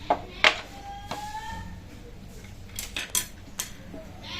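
Metal cookware clinks and scrapes as a tempering pan is picked up and handled, with a few sharp clatters and clicks at close range.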